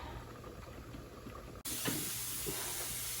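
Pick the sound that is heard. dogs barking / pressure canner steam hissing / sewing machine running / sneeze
pressure canner steam hissing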